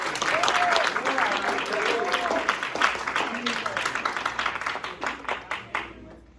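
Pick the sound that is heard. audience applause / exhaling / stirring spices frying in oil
audience applause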